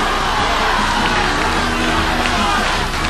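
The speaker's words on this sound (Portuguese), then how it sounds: "Por causa desse grito desgraçado que eu tô sendo obrigado a ouvir" A loud crowd at a music cover show shouts and cheers continuously, a dense wall of voices at steady volume throughout, with no clear single speaker.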